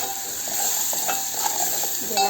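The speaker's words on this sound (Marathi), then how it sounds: "बारीक चिरलेला टोमॅटो घालूया" Finely chopped tomato sautéing in a pan for dal: a bright, steady sizzle with a few soft stirring scrapes, close by and alone.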